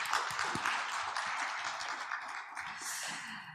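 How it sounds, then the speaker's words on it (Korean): A conference hall audience at a maritime and fisheries outlook event gives a sustained round of applause, a soft, even wash of many hands clapping from a distance that fades slightly toward the end. "이분들을 위해서도 여러분 큰 박수를 보내주시면 감사하겠습니다."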